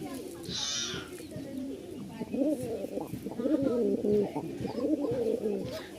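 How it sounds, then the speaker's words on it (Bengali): A pair of coffee- or biscuit-coloured Rajshahi flying-breed pigeons, a male and a female, coo in repeated soft, throaty rolling phrases close by, steady throughout. "রাজশাহীর উড়াবাজির এক জোড়া কবুতর, খুব সুন্দর একটা জোড়া, কফি কালার বা বিস্কিট কালার, নর মাদি।"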